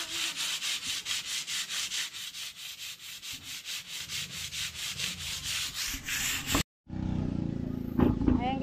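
Tiles being scrubbed clean with vinegar and thinner, a loud, rhythmic back-and-forth rubbing that repeats steadily and stops briefly near the end before resuming.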